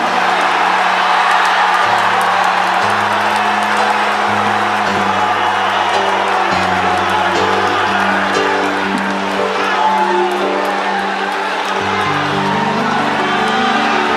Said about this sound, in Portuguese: Quem acredita nisso, dê um grito de glória.